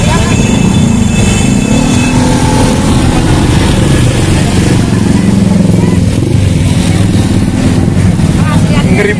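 Several motorcycles revving and passing in dense Jakarta traffic on Jalan Juanda, a loud steady engine drone with rising and falling throttle, and someone talking over the noise.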